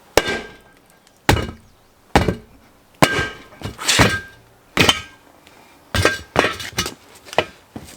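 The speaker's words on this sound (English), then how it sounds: "Bang it back in place." A tire hammer bangs a new Coker whitewall tire back onto its steel rim during hand mounting, giving loud, ringing clanks spaced about a second apart that cluster into quicker double blows near the end.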